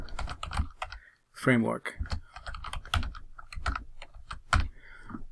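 Brisk, irregular keystrokes on a computer keyboard type out a commit message, clicking steadily close up while someone talks over them.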